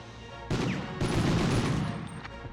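A gun fires in Medal of Honor gameplay, a dense rapid burst of shots starting abruptly and running for about two seconds, loud and close with a noisy rattling tail.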